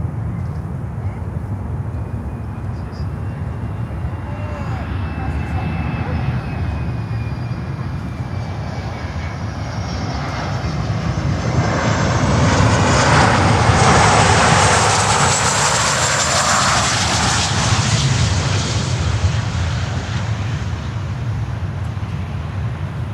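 A large aircraft on landing approach at Miami airport roars loud and broad, the engine noise swelling to a peak midway before easing into a sustained rumble.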